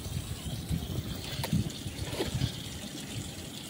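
Water poured into a house roof gutter as artificial rain to find a roof leak, a steady gushing and trickling flow with faint splashing, alone without talk.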